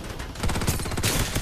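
Rapid bursts of automatic gunfire in an online video game crackle in quick succession, loud and close, with a dense rattling rhythm throughout.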